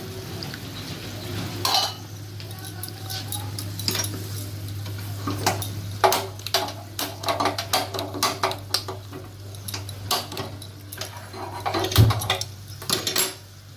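Spice paste of chilli and turmeric stir-fried in a pan for a vegetarian banana-flower dish, with repeated scraping and clinking of a spoon against the metal pan over a constant low hum.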